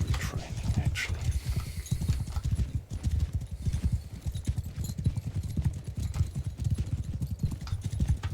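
Horses galloping in the video game Bannerlord during mounted horse archery training: dense, continuous clip-clop of many hooves, loud and near, with a faint voice in places.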